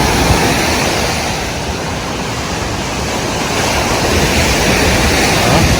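Strong wind roars over crashing ocean surf on the coast at Glan, Sarangani Province, Philippines, a loud, dense rush of noise that swells and continues without pause.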